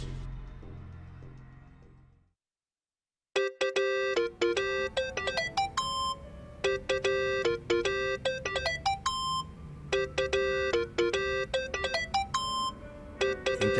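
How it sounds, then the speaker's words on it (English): A mobile phone ringtone in Yakuza: Like a Dragon plays a loud, bright electronic melody of repeated beeping notes for about ten seconds, following a brief quiet gap after low sound fades out. "That's your phone, man."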